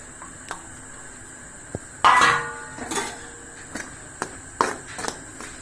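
Coconut mixture is stirred into hot syrup in a pot for a roasted-gram sweet, heard as scattered metallic clinks and scrapes of a spoon against the vessel, close and irregular, with a louder clatter near the middle.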